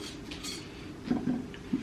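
Dishes and cutlery clink and clatter as a home dishwasher is loaded full, with a few sharper knocks near the end standing out over a quiet room.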